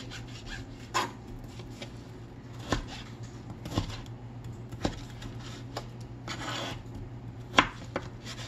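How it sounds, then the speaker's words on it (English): A 5-inch ceramic blade knife cutting salmon into bite-size chunks on a board, a slow series of separate soft knocks and brief rasping strokes, close and quiet, spaced about a second apart. "I'm using my 5-inch ceramic blade knife"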